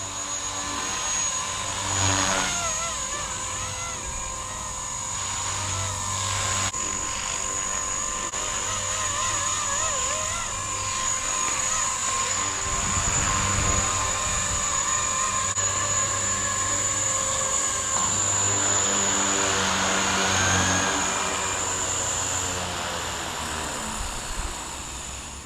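An RC helicopter flying outdoors at night gives a continuous loud whining rotor and motor drone with steady blade chop, holding level and close for the whole stretch.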